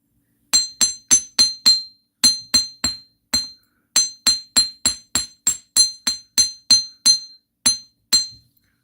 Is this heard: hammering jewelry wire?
yes